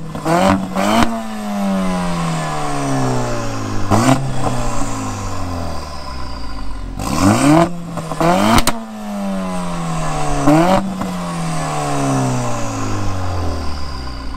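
A Mercedes-AMG A45 S engine and twin-outlet exhaust revs hard and repeatedly, rising whine on each pull followed by sharp crackles and pops between revs, loud and close with no talk.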